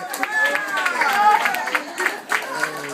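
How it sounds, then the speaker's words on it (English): Audience applause and crowd noise at a comedy show, a steady wash of clapping with scattered voices and chatter mixed in, fairly close and sustained throughout. "give me a round of applause if I keep it real"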